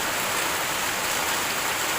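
Heavy rain pours steadily over terraces and tin roofs of buildings, a dense, loud, continuous hiss of falling water with no pauses.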